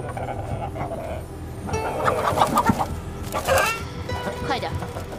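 Roosters clucking and squawking ahead of a cockfight, several bursts of fowl calls rising over a murmur of people talking in the background.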